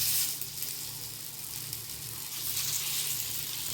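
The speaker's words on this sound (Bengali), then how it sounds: "এই বলগুলো সুন্দর দিয়ে দেবো এতে, উল্টে পাল্টে সুন্দর করে ভেজে নেবো।" Sago dumpling balls fry in a pan with no oil, giving a steady broadband sizzle over a low hum, close and even throughout with no talking.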